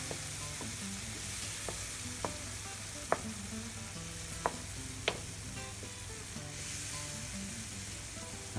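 Liver and onion gravy with beer simmers in a pan with a steady, soft sizzle, broken by a few sharp clicks and taps spaced a second or two apart.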